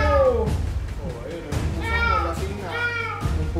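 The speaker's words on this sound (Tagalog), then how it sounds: "Ito yung pusa na hindi ko alagaan eh." A cat meows several times in a home, with drawn-out, wavering cries rising over background chatter as people talk nearby.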